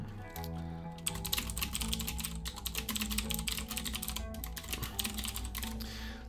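Rapid, steady typing on a computer keyboard, close and clear, a continuous run of key clicks over a low background hum with no talking.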